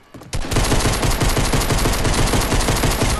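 Pistol gunfire in a video game comes as a dense, nonstop rattle of shots lasting about three seconds. It is loud and harsh, with no talk over it.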